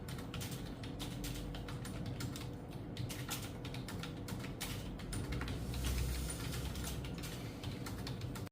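Fingers tap rapidly on a computer keyboard in a steady, continuous clatter of key presses, close and moderately quiet, with no voices over it.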